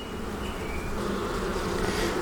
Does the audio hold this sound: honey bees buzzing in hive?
yes